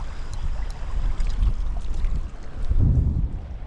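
Wind gusting across open water at a warm creek during fishing, a rough rumbling buffet against the microphone that swells and fades, with no voices.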